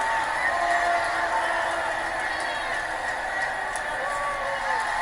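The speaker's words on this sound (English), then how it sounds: "Fakest boos I've ever heard." A broadcast crowd booing with a strained, artificial quality, a steady, loud wash of voices that holds the whole time without breaking.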